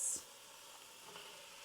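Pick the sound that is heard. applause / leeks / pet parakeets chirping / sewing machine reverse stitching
leeks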